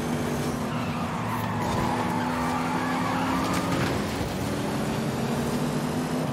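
A Mercedes AMG E63 racing in Forza Horizon 5, its engine roaring steadily with a tire squeal rising midway, continuous and fairly loud throughout without any talk.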